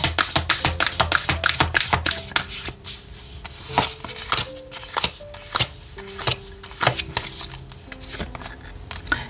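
Oracle cards being shuffled by hand for a tarot reading, with rapid riffling bursts followed by irregular taps and slaps of cards, close and crisp, with faint background tones.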